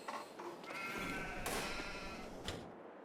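Sheep bleat in the farming video game Farming Simulator 22, a couple of wavering calls over a steady low rumble of game ambience, with a soft thud partway through.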